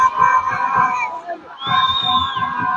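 A large crowd of spectators at a Ramadan neighborhood football league final in Nador roars and cheers, with children's shouts and whistles, while a commentator talks over it.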